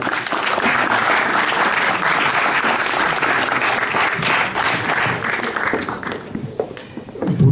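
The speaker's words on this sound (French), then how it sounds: "Et je pense qu'on peut les applaudir une dernière fois." An audience at a community sports inclusion medal ceremony applauds, loud dense clapping held steadily for several seconds before thinning out at the end.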